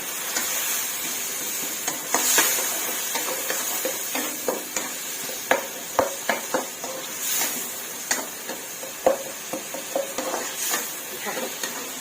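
Long beans with onion being stir-fried in a pan with minced pork and mixed vegetables, a steady sizzle broken by repeated scraping and clanking of a spatula against the pan, close and fairly loud.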